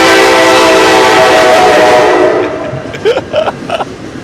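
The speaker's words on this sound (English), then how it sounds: "Here's the other train this way." A train rolls by close and loud with a sustained blaring horn, then the rumble fades and a few shorter horn blasts sound as it moves away.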